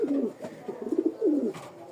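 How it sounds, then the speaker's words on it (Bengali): Pigeons in a cage, a pair with all-black bodies and white heads, give several low, throaty coos in quick succession, close and clear with a few faint rustles between calls. "খুব সুন্দর একটা কবুতর"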